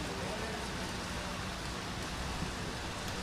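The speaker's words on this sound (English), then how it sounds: "it's still raining out here." Rain falling steadily during a women's rugby league match, heard as an even, constant hiss of rain on surfaces with no breaks and no distinct voices.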